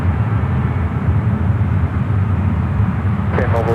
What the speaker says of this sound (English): it looks like the Dreamliner heading to Singapore